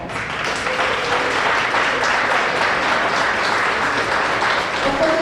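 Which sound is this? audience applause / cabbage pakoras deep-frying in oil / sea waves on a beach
audience applause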